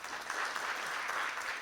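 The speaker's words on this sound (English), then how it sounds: "Our applause for Mr." Audience applause for a visiting ambassador at a lecture hall talk, a steady continuous clapping that holds evenly at moderate volume throughout, with no voices breaking through.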